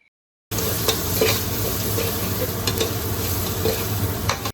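Slit green chillies, cumin seeds and bay leaf stirred in a hot frying pan for Andhra gongura chicken biryani, a loud, steady close sizzle with light scraping that starts abruptly after a brief silence.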